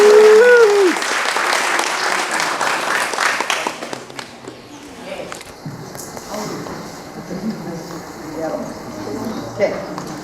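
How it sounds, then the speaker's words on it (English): Audience applause at the 64th annual Hawaiian cultural festival, a loud, dense burst of clapping that fades over several seconds into scattered claps and quieter crowd murmur. "So can we have a warm round of applause to welcome"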